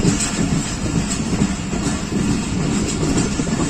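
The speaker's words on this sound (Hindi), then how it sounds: "स्लो स्पीड में गुजर रही है सरहारी से।" Hazara Express rolling slowly through Sarhari station in Pakistan, a steady rumble of wheels with soft clickety-clack running throughout, heard close and continuous with no talking.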